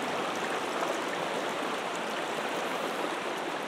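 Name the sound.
loud rushing water of a river flowing through branches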